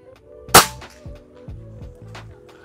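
A single sharp shot from a PCP Ghost Warrior LDT air rifle cracks loudly, followed by a mechanical clatter and a few soft clicks as the gun is cycled.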